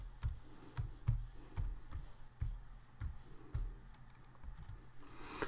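A password is typed on a computer keyboard: about a dozen soft, close key clicks in an uneven rhythm, quiet and alone.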